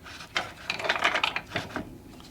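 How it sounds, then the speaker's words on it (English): A metal chain ratchets and clanks as it is pulled up to lift a Cub Cadet tiller, a quick series of close, uneven mechanical clicks lasting a couple of seconds with no talking. "Now I'll take this chain and I'll raise this up."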